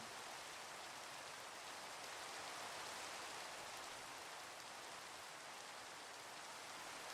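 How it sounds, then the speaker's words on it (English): Rain in the video game Minecraft, a dense, even hiss of falling drops that holds steady throughout, soft and with nothing else over it. "Enjoy the rain."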